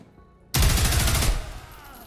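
Gunfire in the shooter Zero Hour during a raid on an abandoned hospital: a sudden, loud burst of rapid shots erupts out of near-silence, holds for under a second, then tails off into a fading echo.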